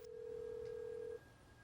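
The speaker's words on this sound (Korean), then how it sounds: "그는 조용히 카운터로 전화를 걸어봅니다." A single electronic telephone ring tone sounds in a tense motel-room film scene, a steady pure tone lasting about a second before stopping, with faint background hum and no talking.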